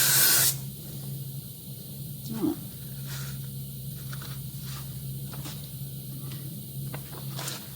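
A steady hiss of a paint spray gun runs in continuous bursts, with a low motor hum underneath and brief pauses between sprays.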